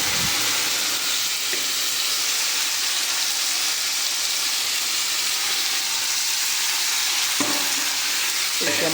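Tomatoes for a tomato chutney fry in a hot pan with a continuous loud sizzle and hiss, broken by a couple of brief clattering stirs near the start and toward the end.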